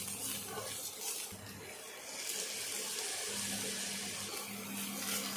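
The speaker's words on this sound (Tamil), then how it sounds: "இப்போ வந்து நம்ம அந்த பாகை ஊற்றிக்கலாம்" Syrup is poured into kozhukattai dough, a steady close liquid pour with soft sloshing lasting about five seconds, no talk.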